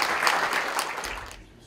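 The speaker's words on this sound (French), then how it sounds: "Applaudissements, s'il vous plaît" Audience applause at a national artistic competition for food trades and table arts in Rueil, a dense burst of clapping that fades out after about a second and a half.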